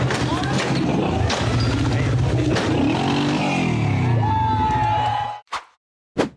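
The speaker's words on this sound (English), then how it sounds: "The off-road SUV tried to accelerate up a steep, rugged rock slope in the forest." An off-road SUV engine revs hard as it accelerates up a steep, rugged rock slope in a forest, loud and strained for several seconds before cutting off, followed by two brief bursts of noise.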